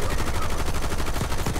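Minigun fire in Call of Duty: Black Ops 6, a dense, unbroken rapid-fire rattle at very high rate, loud and close for the whole short burst.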